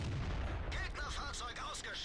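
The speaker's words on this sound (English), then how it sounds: "It's a good shot in Hellcat." A tank cannon fires in World of Tanks on a desert dunes map, a deep rumbling boom at the start that quickly fades under someone talking.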